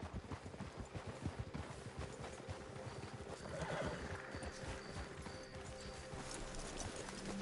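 Horses in the video game Red Dead Redemption 2 snort and whinny as riders dismount, with hooves clip-clopping and shuffling throughout at close range.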